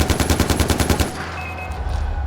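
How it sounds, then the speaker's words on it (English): Rapid automatic gunfire from Far Cry 4, a quick burst of about ten evenly spaced loud shots lasting about a second, followed by a fading rumble and ambient game background with no talk. "they heard the gunshots"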